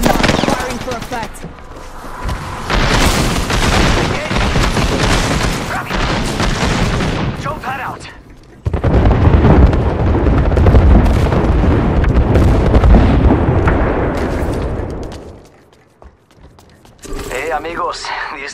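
Artillery strike in Apex Legends, long stretches of heavy rumbling explosions and rapid bursting impacts, loud and near, pausing briefly midway then resuming, before a sudden drop to near quiet; voices talk over parts of the barrage.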